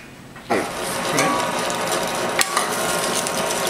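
An electric meat grinder pushes cubed pork butt through a 1/8 plate, giving a steady loud mechanical grinding whir that starts abruptly and runs continuously with small clicks and bumps.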